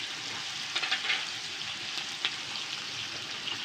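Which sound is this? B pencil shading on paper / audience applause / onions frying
onions frying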